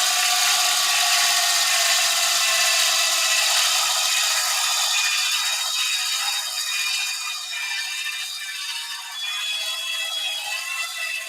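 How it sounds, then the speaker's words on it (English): A power drill whirs continuously as it bores into a hobby model piece, with a steady high-pitched motor whine and slight rattle, faltering somewhat toward the end as the battery weakens. "Oh, my drill's dying."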